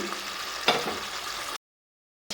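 Tengra fish curry gravy bubbling and sizzling in a pan, a steady close hiss of frying with a stir-like burst partway through, then a stretch of near silence before the sizzle returns.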